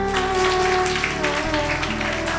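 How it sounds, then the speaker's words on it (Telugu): A congregation claps together during a church service, a dense, steady wash of many hands held close and loud for the whole stretch, layered over sustained droning musical tones with no voices. "చప్పట్లు కొట్టండి అందరూ"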